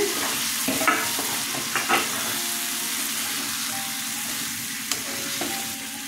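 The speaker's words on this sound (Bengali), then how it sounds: "মশলা কষানো হয়ে গেছে, আলুগুলো ছেড়ে দিচ্ছি" Potatoes dropped into cooked spice masala of coriander, cumin and Kashmiri chilli powder, frying with a loud, steady close sizzle, a few bumps and stirring scrapes, and no talking.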